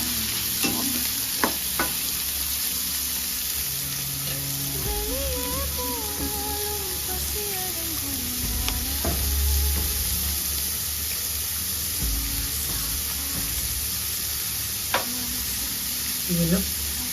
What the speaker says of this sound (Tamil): பெரிய வெங்காயம் பொடியை அரிஞ்சு போட்டுருக்கோம். போட்டு நல்லா வதக்கணும்.